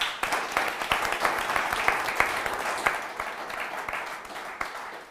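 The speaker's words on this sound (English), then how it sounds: "Give yourselves a round of applause." Audience at a breakfast event applauding themselves, a moderate crowd clapping with distinct claps audible within the wash, fairly steady and gradually easing off toward the end.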